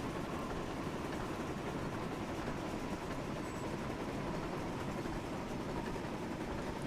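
Gordon the steam engine from a Thomas & Friends game on Sodor runs along the track in a steady, unbroken rumble, with a constant rolling roar and no distinct chuffs standing out.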